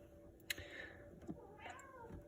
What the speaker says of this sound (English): And that's my cat Shadow.